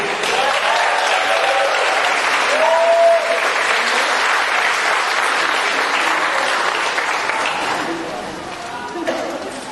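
Sustained audience applause at Real Change's 29th anniversary celebration, a dense steady clatter of many hands at close range that tapers slightly near the end, with faint voices mixed in.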